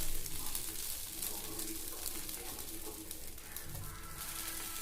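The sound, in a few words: dosa cooking on the hot pan after flipping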